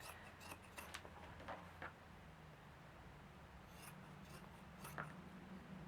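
Scissors snip around the edge of a fabric in-the-hoop bag, a quiet run of close, dry cutting and rasping strokes with small irregular pauses.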